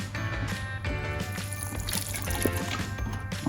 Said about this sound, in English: Just put a little bit of water on.